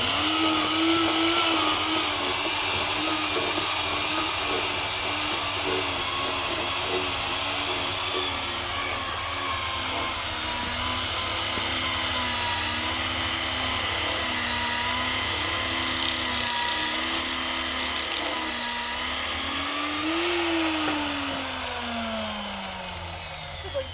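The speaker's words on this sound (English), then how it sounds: "we will use a Miller cutter and to make the interface of the two different kinds of pipes" A milling cutter faces the ends of HDPE pipes with a loud, steady electric whine and grinding that runs throughout, then winds down in pitch near the end.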